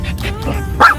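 Minnie, a small dog at the beach, lets out one short bark amid low wind and background noise, close to the listener.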